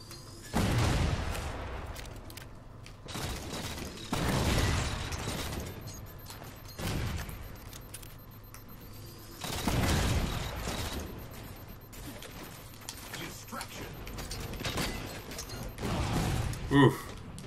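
Heavy booming railgun blasts and mechanical clanks fire in a Capture the Flag match on Simplex in Halo 4, several loud bursts with charging whines between them, and someone talks in the background.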